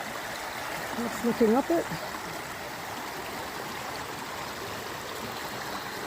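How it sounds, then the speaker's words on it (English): A steady broadband rush from a flowing stream crossing the Appalachian Trail, loud and continuous throughout, with someone speaking briefly over it near the start. "And this is a stream I have to cross over."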